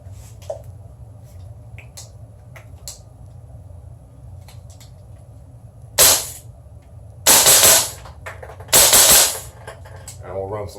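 An HK gas blowback airsoft pistol fires: scattered single sharp pops and clicks, then three loud rapid full-auto bursts, each about a second long, close up with faint mechanical handling between.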